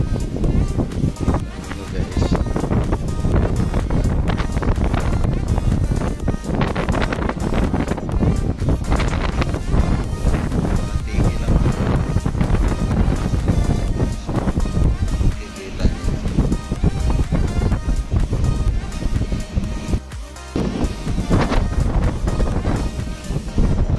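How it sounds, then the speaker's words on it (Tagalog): Strong gusts from Tropical Storm Kiko buffet the microphone in a steady, loud roar that runs the whole time, with occasional voices underneath. "Mahangin to si Kiko guys"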